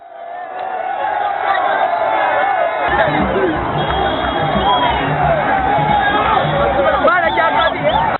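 A thick crowd fills the streets of Mbale town to greet Amama Mbabazi's arriving convoy, with a loud, continuous hubbub of many voices, scattered cheers and whoops running without a break throughout.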